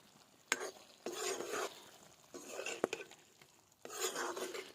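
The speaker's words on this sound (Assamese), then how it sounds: "এতিয়া তাতে মই দি দিছোঁ এয়া মান ধনিয়াটো দি অকণমান এনেকৈ লৰাই দিম আৰু তাৰপিছত নমাম" Boiled chicken with coriander stirred in a pan, bursts of scraping and sizzling in several strokes with sharp metal taps between them, close and fairly quiet.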